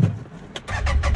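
A CFMOTO ZForce 800 Trail UTV from 2019 cranks over and fires up, giving a short starter whir and then a loud, close engine catching into a rough, pulsing idle.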